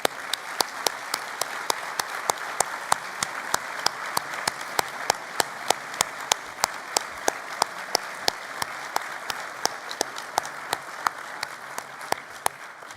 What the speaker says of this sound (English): join with me again in giving all of our recipients a really big round of applause